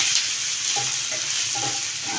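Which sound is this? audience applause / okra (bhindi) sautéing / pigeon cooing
okra (bhindi) sautéing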